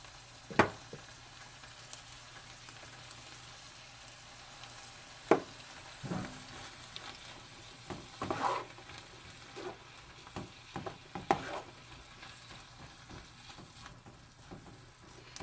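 Corn fries quietly in a pan with a faint continuous sizzle, broken by scattered scraping clicks and knocks from a utensil stirring it, all fairly soft and with no talk.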